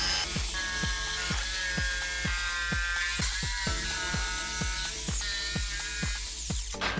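A new power cutting machine slicing through a pallet board for a DIY garden deck, a steady loud whining drone broken by a rapid regular series of cutting pulses throughout, with no speech.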